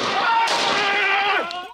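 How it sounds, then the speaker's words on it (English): Loud gunfire crack rings out during violent clashes at a school in Isulu, Ikolomani, a gold mining community, with a sharp burst midway and echoing tail, close and dominant. "Gunshots, tear gas, stones."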